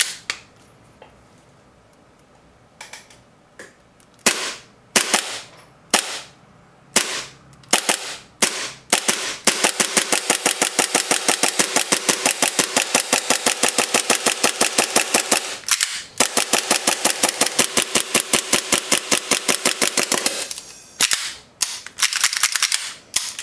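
An airsoft Hi-Capa pistol with an aluminium Nineball NEO magazine dry fires: a run of sharp single clicks, then a long fast string of crisp snaps, close and loud with no talk.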